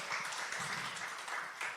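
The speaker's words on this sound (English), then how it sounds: "Round of applause for Adelle again." Audience applause for a guest named Adelle on a new-media entrepreneurship talk show, a steady wash of clapping lasting under two seconds at moderate level, with no voices over it.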